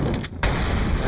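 A flashbang grenade goes off in Counter-Strike on the Inferno map, a sharp loud burst after a brief dip, followed by dense ringing noise filling the rest of the moment.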